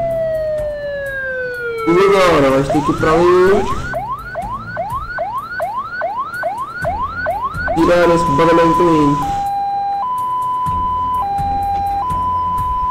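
Ambulance siren in the firefighting and rescue game Emergency 4 wails loudly, sweeping and then switching to a rapid yelp and a two-tone pattern, with someone speaking over it.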